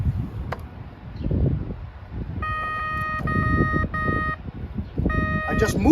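A SkyCruiser waterproof metal detector gives repeated electronic beeps in short bursts while searching for gold and coins, over steady rustling handling noise and outdoor background.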